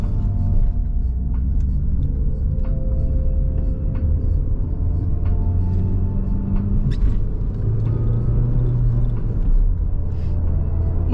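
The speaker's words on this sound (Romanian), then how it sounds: "Mașinuța merge bine." Small car driving on a road, heard from inside the cabin as a steady, loud low engine rumble with road noise that drones on without pause and carries no talking.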